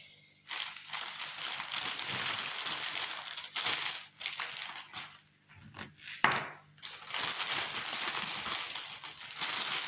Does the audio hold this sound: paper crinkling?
yes